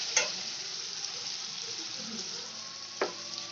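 Bottle gourd and cashews fry with turmeric in a pan, a quiet, even sizzle with two brief sharp knocks of a spoon at the start and near the end.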